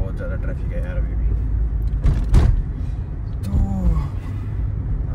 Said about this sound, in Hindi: बहुत ज़्यादा ट्रैफिक है यार अभी भी